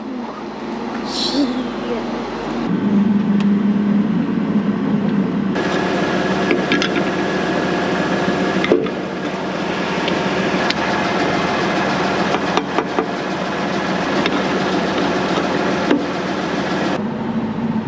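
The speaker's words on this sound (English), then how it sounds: "let's get this tractor started" A diesel tractor engine cranks and catches, then settles into a steady, loud rumbling idle that continues for the rest of the clip.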